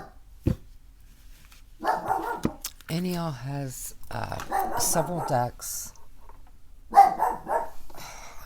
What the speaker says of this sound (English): somebody's walking a dog